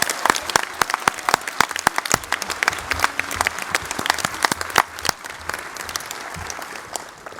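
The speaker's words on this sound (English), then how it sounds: "Let's give a nice round of applause to all our representatives" Audience applause at a Texas Bluebonnet Award luncheon, steady dense clapping from a seated crowd for the representatives, sustained and fairly near for about seven seconds with no talking.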